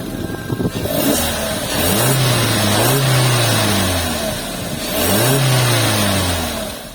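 A Suzuki Ertiga Hybrid with the K15B engine and smart hybrid system starts and revs, rising twice in smooth swells from idle to a mid-pitched hum before settling, close and fairly loud, with no talking.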